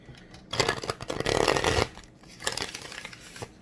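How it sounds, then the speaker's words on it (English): Tarot cards being shuffled close up, several bursts of riffling and flicking with brief pauses in between. "I'm shuffling the after tarot right now."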